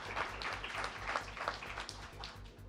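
Applause from an audience at a debate on the universe's purpose, a moderate patter of clapping over a low rhythmic hum in the room, fairly faint and steady for a few seconds.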